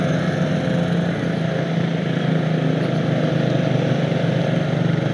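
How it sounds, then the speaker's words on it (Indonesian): A motorcycle strains up a steep mountain climb at an elite cycling race in Dieng, its engine droning loud and steady at close range with a slight rhythmic pulsing. "Motor sampai gereng-gereng"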